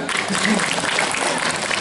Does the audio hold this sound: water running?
no